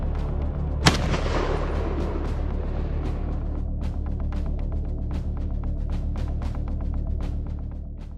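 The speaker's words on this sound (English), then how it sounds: "the hunter uses a Remington 700 rifle" One sharp, loud shot from a silencer-fitted Remington 700 rifle on a wild boar hunt rings out early, then a steady outdoor rumble with faint repeated clicks carries on to the end.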